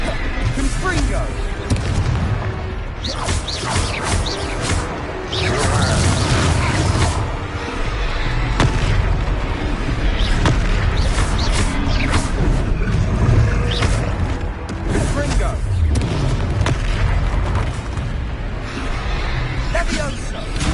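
Confringo fire spells in the Hogwarts Legacy video game, loud repeated booming blasts over constant battle noise, with a voice speaking in places.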